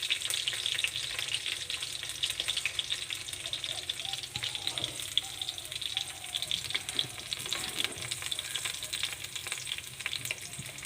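Garlic and chopped onion fry in a hot pan, giving a continuous dense sizzle with light rattling stirs, close and steady throughout with no clear voices.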